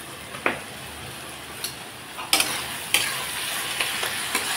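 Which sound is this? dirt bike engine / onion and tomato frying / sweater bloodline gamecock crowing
onion and tomato frying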